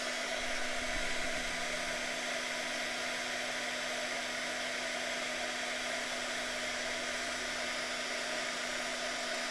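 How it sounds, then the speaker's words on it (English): A heat gun or hair-dryer-style blower heats a rock so crayon melts onto it, producing a steady, close whooshing roar with a constant hum that continues unchanged throughout, with no talking. "So I'm heating the rock."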